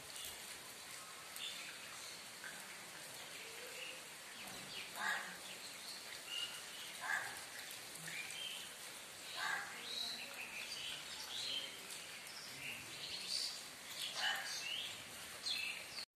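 Crows call in short repeated caws at a moderate distance under the constant hiss of falling rain outdoors.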